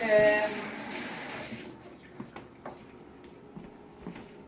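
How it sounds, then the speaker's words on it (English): Tap water runs into a kitchen sink during hand washing while cooking pork chops, a loud broadband splash for the first second and a half, then fading to faint drips and small clinks. "Let me just wash my hands."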